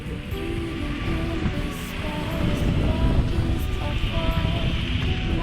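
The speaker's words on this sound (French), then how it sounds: "Enfin on a la pluie, pas énormément pour l'instant mais il y a la pluie qui arrive." Steady rain hisses over open water in the Indian Ocean with a constant wash of wind and sea, broad and fairly loud, without any talking.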